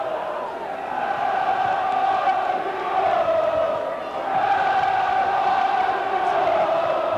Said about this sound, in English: So the whole crowd down in that Turner stand were getting right behind their team